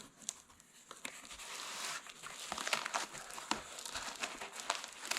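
A heavily taped package holding a Vostok Europe Energia watch is torn open by hand, giving close, continuous crinkling and ripping of tape and wrapping with sharp bursts throughout.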